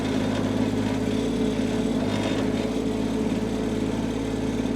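A Groundhog KH25D mini-excavator engine runs steadily while the machine operates, a continuous mid-pitched drone close by with no talk over it.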